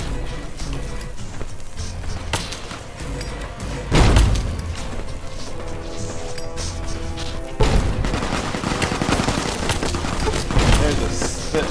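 Video game gunfire in Fallout: New Vegas, a steady barrage of shots with heavy thumping impacts around four and eight seconds, loud and continuous throughout.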